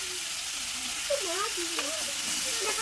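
Potatoes fry with spices in fish oil, a continuous loud sizzle and hiss filling the background while someone talks over it.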